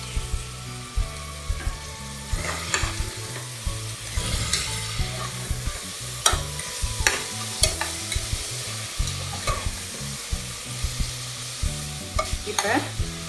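Onions and tomatoes sauté in a pan for mutton chops, with a bright continuous sizzle broken by frequent, rhythmic scrapes and clacks of a spoon stirring against the pan, close and fairly loud.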